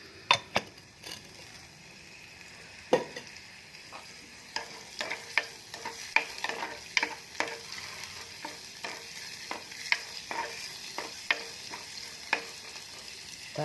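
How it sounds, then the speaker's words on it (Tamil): Spices tempering in hot oil in a pan outdoors, a soft continuous sizzle broken by sharp clinks of a spoon stirring against the metal at an uneven rhythm. "தாளிக்கிறேன்."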